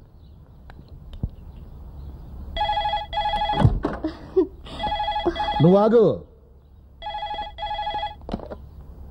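A telephone rings in repeated double bursts, loud and near, in a Telugu comedy scene, with people talking and shouting between and over the rings.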